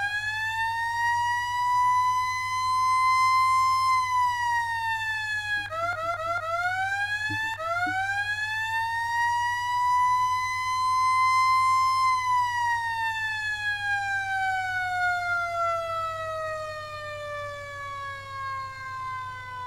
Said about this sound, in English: because hear the horn?